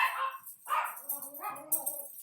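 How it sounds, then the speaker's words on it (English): Dogs bark indoors nearby in a quick burst of several loud yips and woofs, with a brief whine mixed in. "And the dogs are going to bark now."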